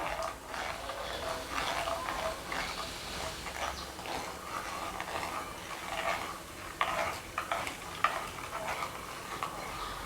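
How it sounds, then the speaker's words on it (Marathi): Fennel seeds and asafoetida being stirred together for amla pickle, producing a continuous scraping, gritty rattle of dry spice close up, steady and fairly faint throughout with a few sharper clicks. "आता हे सगळं छान असं मिक्स करूया"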